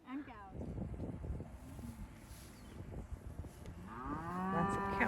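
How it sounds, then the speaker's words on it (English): Cattle on a farm moo, one low call at the start and a long, rising moo near the end, while people talk over wind noise in between. "And cows."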